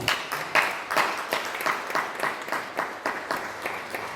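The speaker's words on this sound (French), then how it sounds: "Est-ce qu'on peut acclamer pour la parole de Dieu?" A church congregation applauding together, rhythmic unison clapping in steady beats, moderately loud and filling the room, with faint voices underneath.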